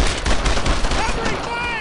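Rapid gunfire in the World War II shooter game Brothers in Arms: Earned in Blood, loud and continuous bursts under shouted orders from soldiers.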